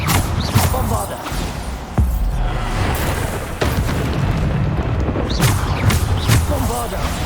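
Bombarda explosion spells cast repeatedly in the Hogwarts Legacy video game: a series of loud booms and thuds keep hitting through a dense, noisy battle, with voices in the mix.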